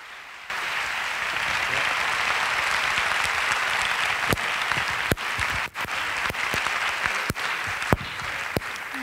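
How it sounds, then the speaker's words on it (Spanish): An audience at a Rock Choir evening in Alcorcón bursts into sustained applause, a dense even wash of clapping with a few sharper nearby claps standing out toward the end. "por favor, un fuerte aplauso para Silvia Ávila."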